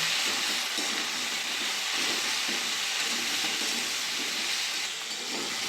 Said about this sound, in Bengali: কেটে রাখা কুমড়ো আলুটা তেলের মধ্যে দিয়ে দেবো। ভালো করে আলুটা কুমড়োটা ভেজে নেব।